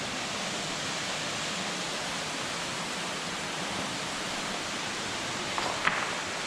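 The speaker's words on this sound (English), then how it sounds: "you can definitely hear some rushing water here" Steady broadband rushing of water inside a cave in the Yorkshire Dales, constant and enveloping, with a brief faint knock near the end.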